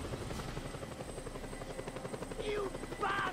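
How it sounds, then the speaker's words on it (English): Helicopter in the Just Cause 2 video game, a steady rotor drone running through the whole stretch at close range, with a few brief game tones and effects rising above it near the end. "there was a helicopter around here somewhere"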